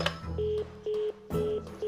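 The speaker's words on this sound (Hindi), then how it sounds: "फोन बंद हो गया।" Repeated telephone tone pulses after a call is cut off, steady beeps with short gaps over a faint hum, no voices.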